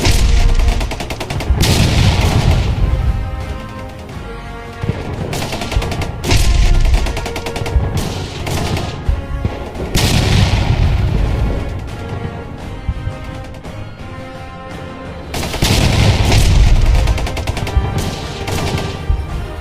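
Rapid bursts of pistol gunfire crack repeatedly in a school play about the Battle of Surabaya, some in quick clusters with heavy booms, loud and close, with brief lulls between volleys.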